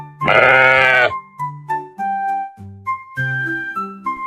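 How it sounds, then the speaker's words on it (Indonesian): A sheep gives one loud, sustained bleat near the start, followed by a series of shorter melodic tones, as part of children's educational content introducing animals. "domba bisa mengenali wajah manusia dan domba lain, serta mengingatnya selama bertahun-tahun"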